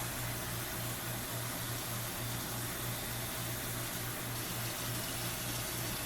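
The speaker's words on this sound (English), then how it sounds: "you can feel the water running over your finger" Water runs steadily from a tap in a constant, faint rushing stream with a low hum underneath, no voices.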